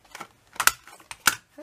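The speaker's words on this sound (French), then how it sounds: "Ma perforatrice d'angle, donc Bassène Créative." A Bassène Créative corner punch trimming the corner of a 4 by 4 inch paper piece gives two sharp, close clicks a little over half a second apart.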